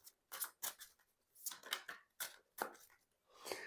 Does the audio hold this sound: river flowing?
no